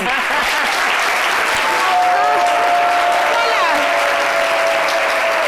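Studio audience applauding on a live French-language midday TV show after a birthday greeting, steady dense clapping throughout with crowd noise and faint whistles.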